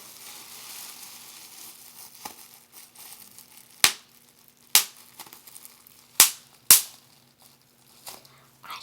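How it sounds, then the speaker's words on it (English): Bubble wrap is popped in a quiet close setting, giving four or five sharp, distinct snaps spaced a second or so apart over faint background hiss. "And lastly, we have bubble wrap."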